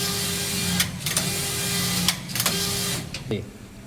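A collar knitting machine runs four-needle knitting with a steady mechanical hum broken by repeated clacking bursts as the carriage travels back and forth, close and moderately loud.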